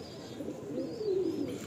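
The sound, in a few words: pigeon (Kalsira breed) cooing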